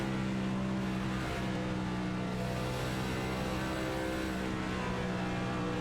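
Race car engine in an HTL Cup Series championship race, held at a steady droning pitch with the driver on the clutch struggling to find second gear, loud and continuous with no voices.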